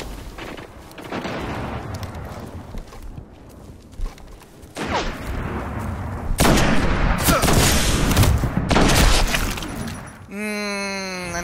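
Gunfire and booming blasts in a Destiny Iron Banner match, heavy overlapping shots and explosive bursts that swell louder midway, with a player talking over the action.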